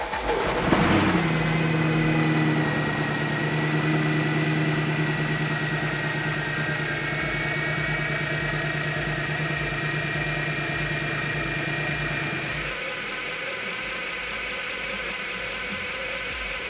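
A Mercedes C63 AMG 507 Edition's M156 6.2L V8, fresh from a fuel injector replacement, cranks and catches, then settles into a steady, deep, even idle that hums on without a break.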